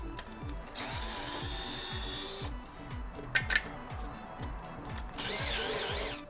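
A power drill with a small bit backs out screws holding down a board inside a Samsung S22 during disassembly, giving repeated short whirring bursts with pauses between and the tool close and clear.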